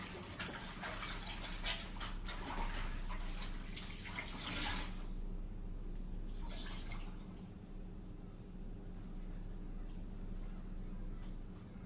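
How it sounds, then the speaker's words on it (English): A cleaning cloth rinsed out in a sink of water, with splashing and dripping for the first few seconds, then a quieter trickle and background hum, heard close up with no talking. "I'm just going to rinse out my clothes and give it another wipe over"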